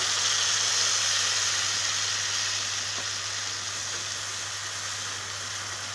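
Spice paste with cumin frying in hot oil over browned chopped onions, a steady close hiss and sizzle that holds evenly and eases slightly toward the end, with no talk.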